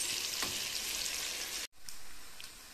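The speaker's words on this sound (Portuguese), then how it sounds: "E aqui eu já coloquei a banana da terra também para fritar" Plantain (banana da terra) frying in a pan, a dense steady sizzle that cuts out for an instant partway through, then resumes slightly softer with a few faint pops.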